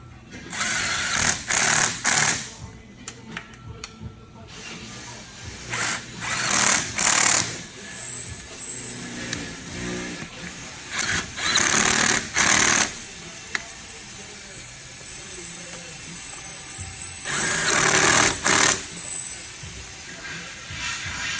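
Power tools buzz and rattle in bursts while a car transmission is reassembled in a garage, some long and some short, with a high whine in between and people talking at times.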